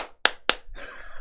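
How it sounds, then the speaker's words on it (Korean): Two sharp, close hand claps about a quarter second apart, followed by a brief burst of excited room noise. "박수 치면서 화이팅 해요"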